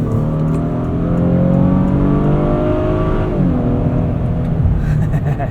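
A Honda Passport TrailSport V6 engine pulls steadily under acceleration, a loud continuous hum that rises in pitch, dips briefly as it shifts, then climbs again, heard from inside the cabin with no talking.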